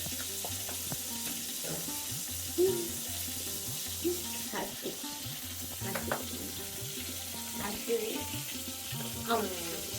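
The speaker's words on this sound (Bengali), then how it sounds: "এখানে মাছ ভেজে নিচ্ছি" Pangas fish frying in a pan, a low, faint, steady sizzle with scattered clinks and splashy spits and some background noise, no voices.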